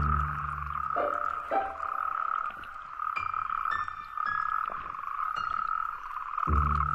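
Natterjack toads croaking at night in an Iberian woodland, males competing in a dense, continuous chorus of rolling, buzzing trills, loud and close with no talking.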